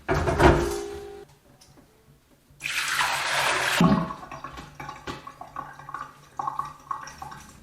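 Water runs and splashes in bursts while a Berkey water filter system is cleaned, with loud gushing stretches, pauses, clunks of parts being handled and dripping near the end.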